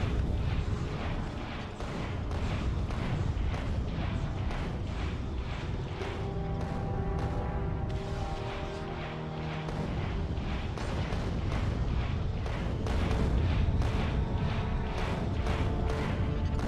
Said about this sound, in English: This would be a good moment to use the not explosive rockets actually,